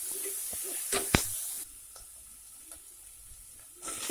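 Ginger and garlic paste hits a hot pan with a loud sizzling hiss and a couple of sharp pops, then settles into a quieter steady frying hiss that swells again at the end.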